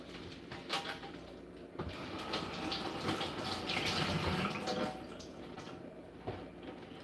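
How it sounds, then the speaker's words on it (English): Water from a kitchen tap running over salad fruit such as pomegranate and strawberries as it is washed, a close, steady splashing stream that swells and shifts in the middle with a few clattering knocks, no voices. "I be washing my salad or whatever."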